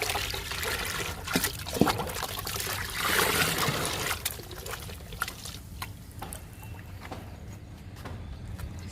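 Liquid fertilizer poured from a can onto a sapota fruit plant, a close, uneven trickling and splashing with a fuller gush near the middle, then thinning to faint dribbles.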